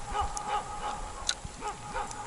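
Faint dog barks and yips come from a distance outdoors near a riverside hut, several short calls scattered across a couple of seconds against quiet background ticking.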